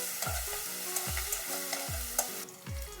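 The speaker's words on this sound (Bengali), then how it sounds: "আর দিয়ে দেবো এই যে আদা, আমি একদম ঝিরি করে কুচিয়ে নিয়েছি, আর কাঁচা লঙ্কা, এগুলো একটু ভেজে নেব।" Finely chopped ginger and green chillies fry in hot oil. A steady sizzle runs throughout, broken by four evenly spaced, resonant knocks of the spatula against the pan.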